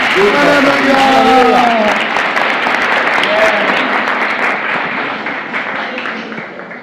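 A church congregation applauds loudly in praise of the Lord, a dense sustained clapping that slowly fades, with a voice speaking over it at the start.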